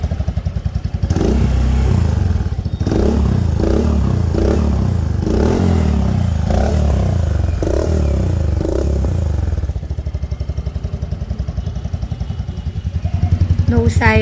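A motorcycle fitted with a TRC power pipe exhaust and silencer idles and revs steadily up close, a loud continuous engine drone with a few throttle blips and some clattering, rising again near the end.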